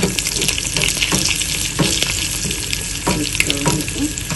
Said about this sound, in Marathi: आपला तडका रेडी झाले मी आता हे पोर करते चटणीवर